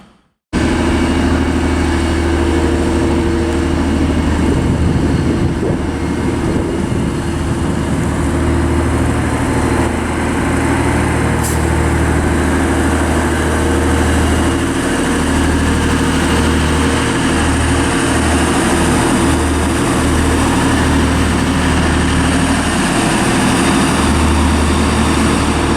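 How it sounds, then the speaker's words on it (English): TransPennine Express unit 185103 pulls out of Durham station, a loud, continuous diesel engine drone and rumble that builds and holds for nearly half a minute. "arriving here is 185103, that is the 1432 Transpennine Express service to Manchester Airport from Newcastle"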